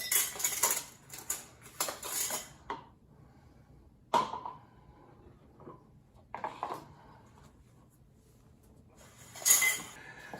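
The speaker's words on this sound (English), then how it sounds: "Put the beef in the jars." Chopped beef going into glass quart canning jars for pressure canning, with clinks of glass and utensils in irregular bursts, some loud and close, separated by quiet gaps.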